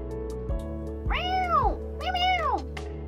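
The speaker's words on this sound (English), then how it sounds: "Meow, meow." Two drawn-out cat meows, one after another, over a steady low hum in a quiet room.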